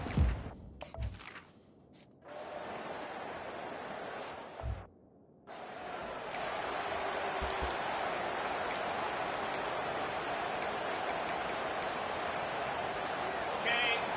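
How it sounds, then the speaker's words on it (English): A steady roar of a large stadium crowd at a TCU football game fills the space, broad and continuous, with a few brief thumps and breaks early on. "This crowd bringing the energy and noise early."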